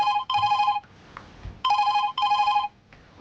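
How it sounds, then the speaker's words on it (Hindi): A phone ringtone rings indoors in two pairs of bright, electronic rings separated by short pauses, loud and clear with no voices over it. "फोन आ रहा, जल्दी आओ।"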